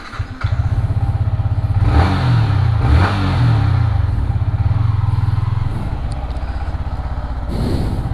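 A Yamaha MT15 motorcycle engine runs close and loud with a steady low putter, rising in a few rev bursts around the middle before settling back to idle.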